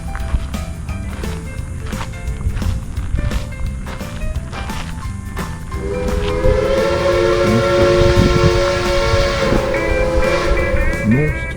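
A heavy freight train rolls past on the rails, a loud continuous rumble and clatter with tonal horn-like whines rising in the second half.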